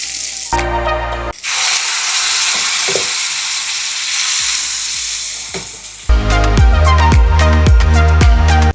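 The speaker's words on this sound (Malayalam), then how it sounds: "അപ്പോൾ ഇതേ നമ്മുടെ ഉള്ളിയൊക്കെ നല്ലപോലെ മൂത്തു." Onions and curry leaves fry in a pan for chutney, giving a loud, steady sizzle and hiss close by, with clattering stirring knocks at the start and end.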